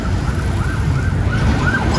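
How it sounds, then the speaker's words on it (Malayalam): An ambulance siren wails steadily at night near a roadside stop, loud and close, its rising and falling tone carried over the low rumble of traffic. "ആംബുലൻസ് വരും."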